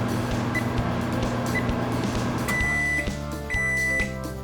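An oven runs while a polymer clay zombie figure bakes, giving a steady, fairly loud mechanical hum with short electronic beeps near the end.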